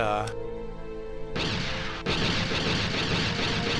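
Purple laser blasts from a Jedi Starfighter in a modded Star Wars game, sharp gunshot-like bursts: a brief tonal shot, then two loud broadband blasts that hang on as a dense crackling wash.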